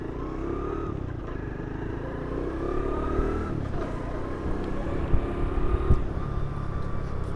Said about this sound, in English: I'm trying to keep the revs down, but it's hard to actually do actual riding on a bike like this at low revs.